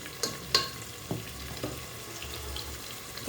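Turmeric and chili powder spices frying in a pan with a continuous low sizzle, a few sharp clinks and scrapes of a spoon stirring near the start.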